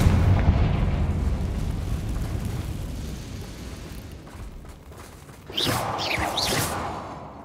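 A Confringo fire spell in Hogwarts Legacy goes off as a loud, sudden blast with a whooshing burst and a rumbling tail, following a stretch of low, dense rumble and noise.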